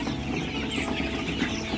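Dense, continuous clucking from many chickens on a poultry farm fills the air, a busy flock chattering without pause.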